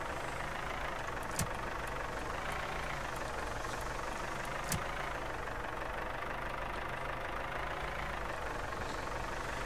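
A fire engine idles steadily in the Firefighters 2014 simulator game, a low continuous engine rumble with faint clicks, quiet and unbroken.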